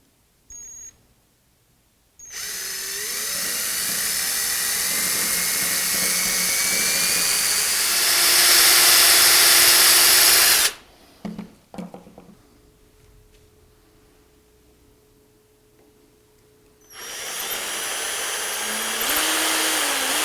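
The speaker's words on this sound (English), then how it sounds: "for the first step is to drill the pilot holes for tapping" A 3.3mm drill bores pilot holes for tapping into a milling machine table, a loud steady high whine running for several seconds, stopping, then starting again after a pause.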